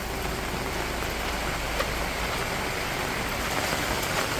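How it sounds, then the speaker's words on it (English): Heavy rain pours steadily onto the streets of Benidorm, a dense, even hiss with runoff water and a faint engine rumble beneath, continuous and close throughout. "Slowly on, it is getting a little bit less, the rain now"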